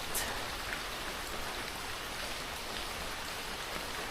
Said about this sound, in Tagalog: Na-enjoy ko yung ulan na kung saan umuulan din sa San Jose del Monte, Bulacan.